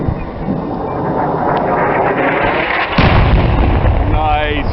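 Huge 2,000-pound JDAM bombs detonate on a house in a video game, a loud continuous rumbling roar of blasts with a sharper, heavier burst midway, close and overwhelming.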